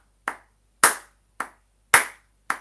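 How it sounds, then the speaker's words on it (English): Single pair of hands clapping in a steady beat, five crisp claps close to the listener, alternating softer and louder strokes to accent the first beat of each bar, with silence between. "put a louder clap at the beginning of each bar."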